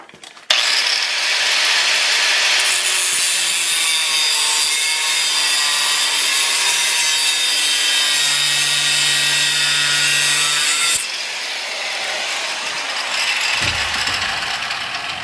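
A loud, steady grinding-saw cut through a steel railroad spike, a harsh continuous screech for about ten seconds before it drops off and winds down.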